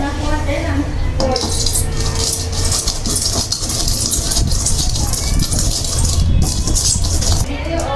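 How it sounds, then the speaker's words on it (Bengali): Roasted cumin seeds being ground into powder for an egg curry, a steady rough grinding and clattering that carries on for the whole stretch, close and fairly loud, with a faint hint of voices in the background. "কাঁচা জিরা ভেজে নিয়েছে, এখন এগুলো গুঁড়া করতেছে"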